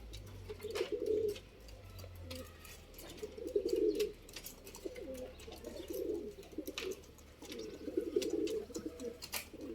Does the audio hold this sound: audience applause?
no